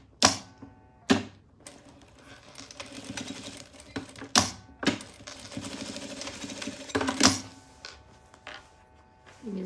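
A sewing machine stitching fabric for a double zip pouch, running in short loud bursts separated by sharp clacks and pauses as the fabric is adjusted, close to the listener.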